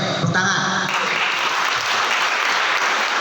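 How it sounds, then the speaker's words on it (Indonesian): Steady audience applause in a motivational seminar hall, dense even clapping that follows a brief bit of talk at the start and holds at a constant level throughout. "Boleh, tepuk tangan."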